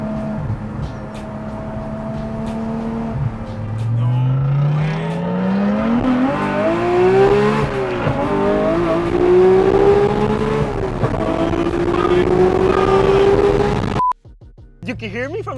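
Supercar engine on a GT3 track, loud and continuous with rising and falling revs and a stepped pitch suggesting downshifts as it slows; voices talk over it, and it cuts off abruptly near the end.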